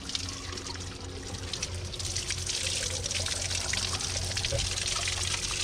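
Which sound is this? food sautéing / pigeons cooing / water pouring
water pouring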